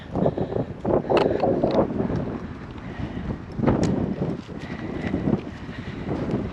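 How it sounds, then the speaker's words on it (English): Gusty wind buffets the microphone in uneven, loud bursts, rising and falling without any talk. "And it's windy."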